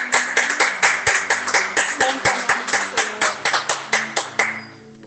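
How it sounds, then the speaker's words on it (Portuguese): A church congregation claps in steady rhythmic unison, sharp regular beats about twice a second, over a low sustained musical backing before the clapping fades near the end. "Mas aplauda mais e mais, porque ele merece."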